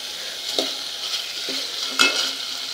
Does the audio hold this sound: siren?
no